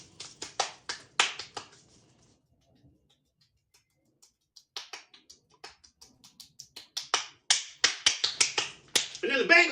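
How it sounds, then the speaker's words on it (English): Hand clapping solo, a quick burst of crisp claps, then a near-silent pause with a few soft taps, then claps resuming and building to a dense close run, with faint talk at the end. "They're taking a clap solo."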